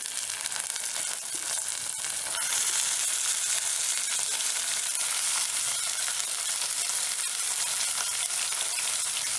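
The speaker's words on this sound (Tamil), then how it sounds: "வெங்காயம் லைட்டாக கலர் சேஞ்ச் பண்ணி சிக்கன் சேர்த்திக்கிறேன்." Chicken pieces added to lightly browned onions in a pan for chicken salna sizzle with a bright, hissing crackle. It swells a little louder after a couple of seconds and then holds steady, close up with no talking.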